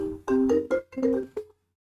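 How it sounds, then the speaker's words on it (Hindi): A phone ringtone going off in the middle of a classroom lecture, a short melodic electronic tune of a few tones played once, fairly close, with no speech over it. "ये बीच में फोन आ गया था किसी का।"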